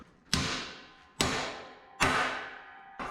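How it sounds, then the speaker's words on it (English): Hammer blows drive a dimple die into steel on a Harbor Freight welding cart: three hard, ringing metallic thuds about a second apart, each decaying slowly, with a fourth strike starting at the end. "We're probably just gonna do that with hammer and force."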